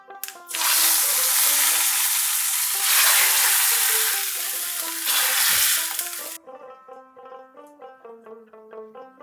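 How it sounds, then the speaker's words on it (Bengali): A loud burst of sizzling as a hot tempering of asafoetida, dried chillies and bay leaves in oil is poured into Bengali biuli dal, hissing for several seconds before cutting off abruptly, followed by light background music. "1/4 টিস্পুন হিং, 2টো শুকনো লঙ্কা আর 2টো তেজপাতা। এটা এবার ডালের মধ্যে ঢেলে দেব।"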